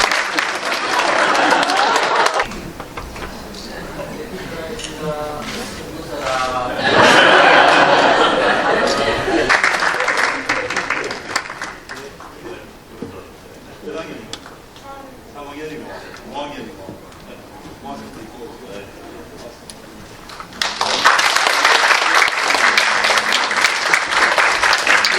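Audience applause for a participating family at an education book concert, loud bursts at the start and again at the end, with a speaking voice and some chatter and light laughter in between.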